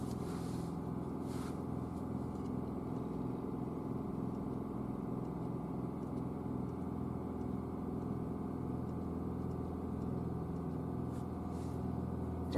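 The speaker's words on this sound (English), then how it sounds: "I want to get the engine up to temperature." A BMW B46 four-cylinder engine idles steadily while warming up, a continuous low hum with a faint whir and no talking over it.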